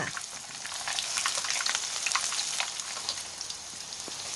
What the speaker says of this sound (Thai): พอน้ำมันร้อนเอาเต้าหู้ลงทอดอีกครั้งค่ะ